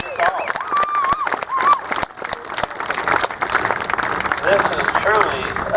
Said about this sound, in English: Let's everybody have applause for everybody here today.